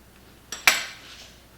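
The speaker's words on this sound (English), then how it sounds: "just go ahead and use the fork to squish it to the side, making like a little pocket inside of the potato" A fork presses into a cooked potato to squash the flesh aside into a pocket, giving two close, sharp metallic clinks of the tines against the plate, the second louder, with a short fading ring and no talking.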